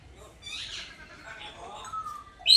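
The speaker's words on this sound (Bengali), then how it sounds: "এখানে খুব সুন্দর পাখি রয়েছে" Faint, scattered bird chirps and short tweets in a quiet outdoor setting in Gokarna park, Murshidabad, ending with a brief sharper, louder call.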